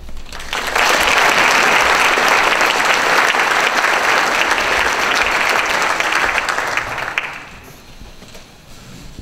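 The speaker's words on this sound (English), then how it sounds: "Let's give her another round of applause." An indoor audience at a State of Forsyth County, Georgia address breaks into loud, sustained applause that holds steady for several seconds, then thins out and fades as the clapping dies away.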